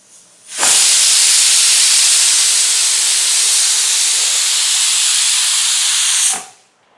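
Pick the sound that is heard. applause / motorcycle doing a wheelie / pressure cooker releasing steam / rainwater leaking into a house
pressure cooker releasing steam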